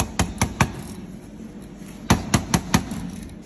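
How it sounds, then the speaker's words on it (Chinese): A 2500 W capacitor discharge stud welder fires M5 studs onto galvanized pipe, giving sharp loud snapping cracks, three in quick succession, a pause, then four more, over a faint steady hum. "现在用的这个是2500瓦的这个储能式螺柱焊啊，然后装到这个镀锌管上面，螺柱是 M5 的"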